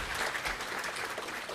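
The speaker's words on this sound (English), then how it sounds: "Everybody will give a big applause for Dr. Zhang." A conference audience at an international pharmacy conference applauds in a dense, steady burst of clapping, close and fairly loud.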